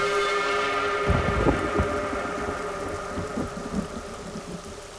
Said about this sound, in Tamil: ஓ, அப்படின்னா நாங்கள் மழை நின்னதுக்கப்புறம் தான் போக முடியுமோ?